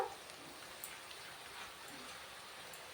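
Onions fry gently in a pan, giving a steady, soft, close crackling sizzle with faint spatters and no talking.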